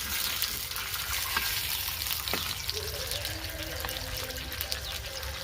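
Fish fillets fry in hot oil in a pan over a wood-fired village stove in Salem, with a steady close sizzle, some stirring clatter and faint bird calls in the background.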